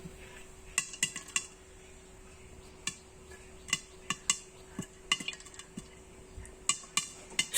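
A metal lid on a pot of boiling milk gives a series of sharp clinks and taps, some close together and some spaced out, over a faint steady hum.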